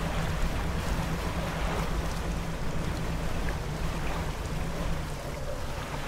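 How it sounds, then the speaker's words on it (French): Boat engines run at full throttle in the fishing video game Dredge, a steady, loud engine drone with a low hum and a rushing wash of water that continues without a break. "À fond les moteurs"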